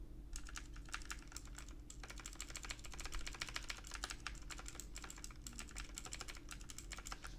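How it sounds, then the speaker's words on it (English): Rapid typing on a computer keyboard at a desk, heard through a cheap Pop Voice MPH-01 desktop microphone: quick, uneven bursts of clicky keystrokes with brief pauses, fairly faint over a low steady electrical hum. "let me just show you guys what it's like typing on my keyboard"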